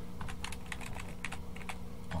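Code being typed on a computer keyboard while converting a Python script to an executable, a quick close run of crisp key clicks with uneven rhythm and no voices.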